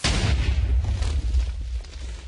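A TNT-loaded rocket explodes in the Minecraft video game, one deep rumbling boom that starts loud and close, then fades out over about two seconds, with no talk.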